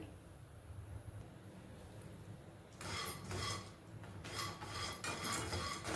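Protein powder mix is stirred and scraped in a pan, starting as a faint rubbing, then turning into louder, repeated rasping scrapes of a utensil against the pan.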